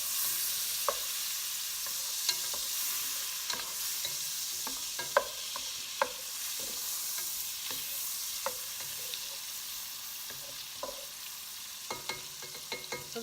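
Butter sizzling in a pot ahead of cooking potatoes for a crawfish dinner, a steady soft frying hiss broken by scattered sharp pops and crackles, close by with no talking.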